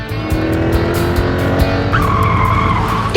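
A car driven at 65 km/h on a wet road gives a loud, close tire skid and squeal over its engine roar, the screech rising in the last second and continuing alone without talk.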